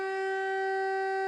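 A sustained alarm siren holds one steady, pure tone with strong harmonics, loud and continuous from start to finish, alone with no voices.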